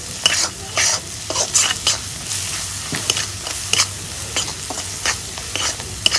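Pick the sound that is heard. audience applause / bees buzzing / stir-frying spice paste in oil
stir-frying spice paste in oil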